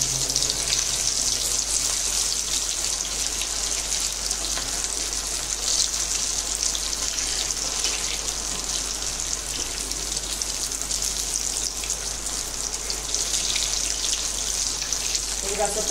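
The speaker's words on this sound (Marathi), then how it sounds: "आता मी हे तळून घेणार आहे" Corn patties fry in oil over medium heat, giving a steady, even sizzle with fine crackle that carries on without a break.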